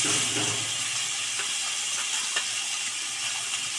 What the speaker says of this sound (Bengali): কড়াইতে তেল একদম তেতে গেছে। এবার মাছগুলো দিয়ে দেব।